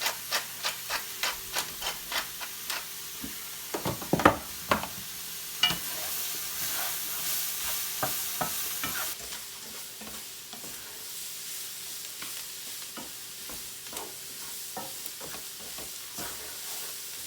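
Chicken and mushrooms sizzle in olive oil in a pan, seasoned with kosher salt and pepper, while a utensil scrapes and stirs in a steady rhythm of close, distinct strokes over a constant hiss.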